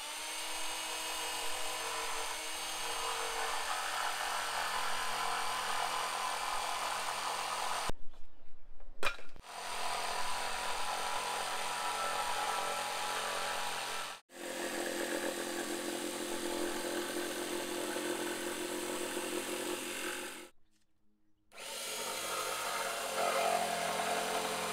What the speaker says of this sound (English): old Black & Decker jigsaw.